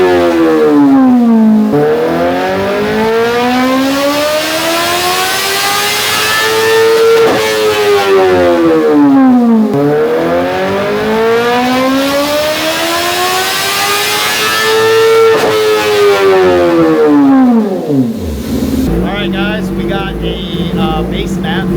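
A 2024 Kawasaki ZX-10R on its base map, fitted with an SC Projects exhaust, revs hard in repeated long sweeping pulls that climb and fall, loud and close, with a deeper crackle as it drops back near the end.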